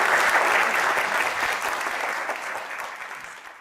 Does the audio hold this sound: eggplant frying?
no